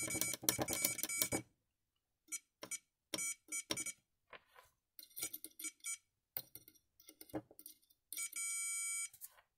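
A vintage 1987 Siemens B1023 digital multimeter gives a continuity test, emitting a run of short electronic beeps in irregular bursts with brief gaps, ending in a longer sustained tone, all close and fairly quiet with no voices.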